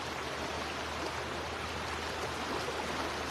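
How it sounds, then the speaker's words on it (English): A river flowing, heard as a steady, broad rushing wash with no breaks, moderately distant and fairly soft, with a low hum underneath. "Can you hear the river?"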